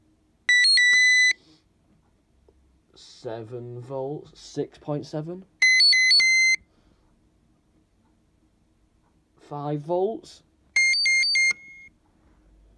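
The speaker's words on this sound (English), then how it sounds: "I'm keeping the siren covered, because this is probably the loudest bell box I've tested so far." A 1996 CQR Cequra MK2 alarm bell box siren blares in three short piercing electronic bursts, each a few seconds long, partly covered. Between bursts, someone speaks nearby.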